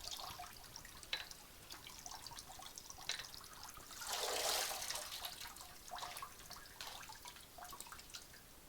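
Water drips and trickles off boiled naengmyeon noodles as they are squeezed out by hand, a soft, close, wet splattering that swells briefly in the middle, with no talking.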